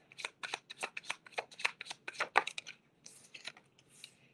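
Tarot cards shuffled by hand, a quick run of crisp riffling bursts in close succession, a brief pause, then softer shuffling, close and quiet with no talking.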